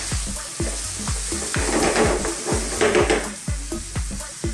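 Onions sizzle and fry in a pan for beef curry while a spoon stirs them, a steady hiss broken by repeated sharp scraping clacks against the pan, close and loud with no talking.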